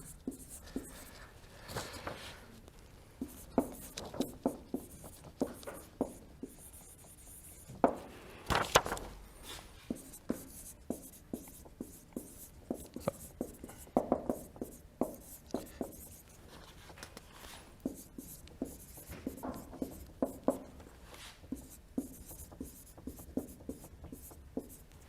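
Chalk taps and scrapes across a blackboard as math is written during a lecture, a long run of quick irregular clicks and strokes, close and steady, with no speech.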